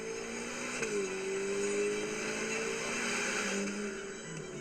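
A Porsche Turbo S sports car drives along with a steady, smooth engine drone inside the cabin, its pitch dipping as it shifts and then holding level, with no voices.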